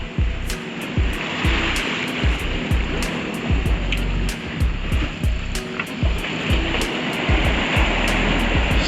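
A sailboat pushes through swelly seas, with a loud, continuous rush of water and waves breaking against the hull in uneven surges, plus strong wind noise and regular ticking clicks.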